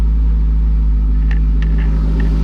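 An LS2 V8 idles at about 700 RPM, a loud, steady low rumble with a constant throb and no revving, close by throughout.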